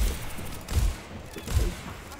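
Gunfire in a shooter video game sounds as two dull, low thumping shots about a second apart, fairly quiet and muffled over a faint background hiss.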